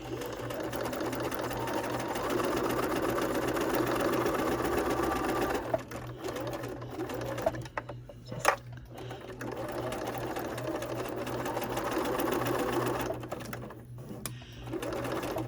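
A sewing machine stitches trim onto a cross stitch pillow in long, steady whirring runs, pausing briefly with small clicks and handling sounds before resuming the close, continuous hum.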